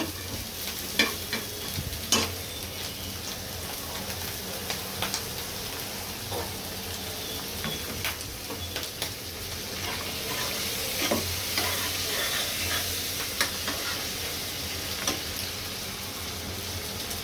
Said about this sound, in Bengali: চিংড়ি মাছটা দিয়ে আমি কিছুক্ষণ ভেজে নিব